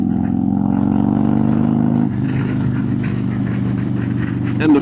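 A Harley-Davidson motorcycle with a stage 2 engine revs at half throttle, a steady loud, close engine drone that holds for about two seconds, then drops to a rougher, lumpier idle-like rumble before a brief rise at the end.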